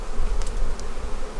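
Honey bees on a hive frame being filled with honey hum in a dense, continuous close-up buzz, loud and steady with a couple of faint higher clicks.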